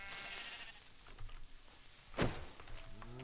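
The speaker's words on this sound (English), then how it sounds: "Alright, so we have sheep now" Minecraft sheep letting out a single short bleat near the end, preceded by a few soft game footstep thuds and a sharp thunk, against an otherwise quiet background.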